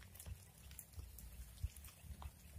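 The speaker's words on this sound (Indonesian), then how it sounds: "Aduh, hujan Om." Faint rain patters irregularly on a surface during outdoor fishing, scattered drops tapping softly with no voices.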